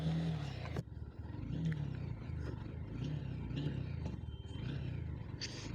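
A Honda single-channel ABS adventure motorcycle idles steadily nearby with a low, continuous engine rumble, with a brief dip near the start, at an outdoor safety riding training event.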